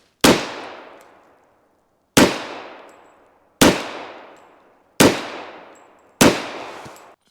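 Five loud .45 handgun shots fired one at a time at body armor during an armor test, each a sharp crack with a short decaying tail, spaced roughly one to one and a half seconds apart with no talking.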